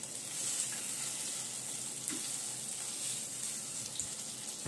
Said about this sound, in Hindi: हम इसे सीक को चारों ओर अच्छे से ब्राउन सीकेंगे।